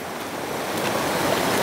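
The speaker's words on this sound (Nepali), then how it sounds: "यति ठुलो खोला अहिले बाढी आइरहेको छ" A swollen, flooding river rushes with a steady, broadband roar of churning water, continuous and fairly close, with no voices over it.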